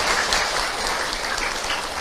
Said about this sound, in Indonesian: Tepuk tangan Ibu untuk Kak Hilman.